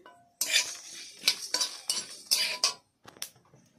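A spoon stirs whole coriander, fennel and cumin seeds dry-roasting in a pan at medium heat, giving close, intermittent metallic scrapes and clinks in uneven bursts with short quiet gaps between them.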